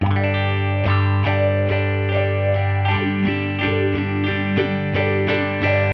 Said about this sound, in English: So I drugged something crazy in here, this auto filter.